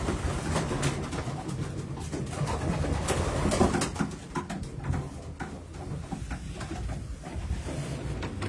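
Homing pigeons coo in a busy loft, with dense overlapping bird calls and fluttering patter continuing steadily throughout.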